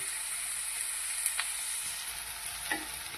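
Onions frying in hot oil for kappa biryani, a constant bright sizzle with a couple of brief stirring scrapes, close and steady with no talking.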